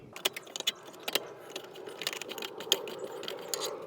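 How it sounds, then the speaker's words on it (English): Small screws being driven in to fix a plastic mounting piece inside a Lexus RX350 dashboard, heard as light, close metallic clicks and scrapes with a soft ratcheting rattle in a quiet space. "Here's our first screw, so I'll put it into this corner here and see if we can attach this plastic mounting piece."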